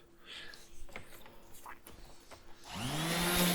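An orbital sander smooths a custom wenge semi-hollow guitar body, starting after some handling knocks and rising into a loud, steady whirring hum.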